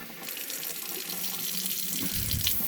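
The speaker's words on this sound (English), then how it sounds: "when you click on the spray, it's such a narrow spray." A kitchen sink faucet's narrow spray runs steadily, a continuous hiss that grows a little fuller and louder toward the end, with no voices.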